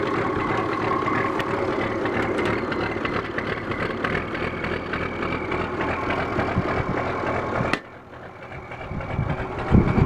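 The Waukesha engine in a 1855 Oliver tractor runs after a cold start, a steady, close, throaty idle that carries on evenly before dropping off sharply near the end and then picking back up.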